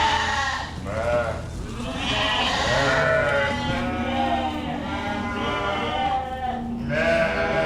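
Lambs and ewes bleat steadily and overlapping throughout on a farm on weaning day, a loud, close flock of many voices with no break.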